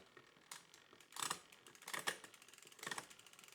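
A mountain bike derailleur on an Orange Five shifts onto the largest sprocket, heard as quiet ticking and ratcheting clicks of the chain and freewheel, building into a few louder clattering bursts, close up with no speech.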